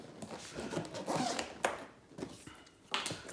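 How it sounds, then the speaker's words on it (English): Double zippers on a protective carry case for a drone power bank being pulled open, quiet close-up scratchy zipping runs in bursts with short pauses between them. "So we've got the double zippers."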